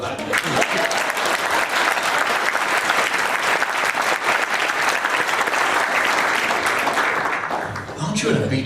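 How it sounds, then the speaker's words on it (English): Sustained round of applause from an audience at a public talk on PlanMaryland, dense steady clapping filling the room for about eight seconds before easing off at the end. "I think we should have a round of applause for that"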